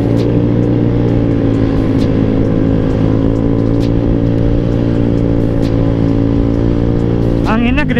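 A Honda Vario 150 automatic scooter is ridden on the road, its engine and quiet aftermarket exhaust droning steadily under heavy wind buffeting, with a brief rising rev near the end.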